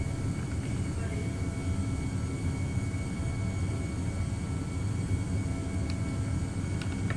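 Steady low roar of Airbus A319 jet engines during takeoff in Microsoft Flight Simulator 2020, a constant rumble throughout while someone talks over it.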